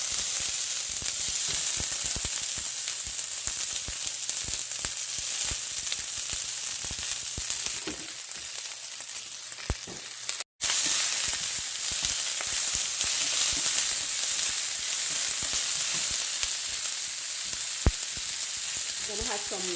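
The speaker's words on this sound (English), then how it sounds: "What I do is to put all of my seasoning in my pot." Seasoning sizzles and fries in hot oil in a pot for Jamaican-style chicken, a steady, close crackling hiss that runs the whole time with only a brief break partway through.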